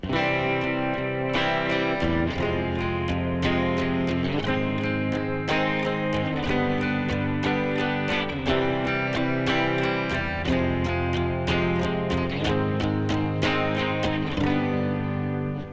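A distorted guitar strums a steady chord progression using borrowed chords from natural minor, chords changing every second or so, loud and sustained with a gritty edge throughout.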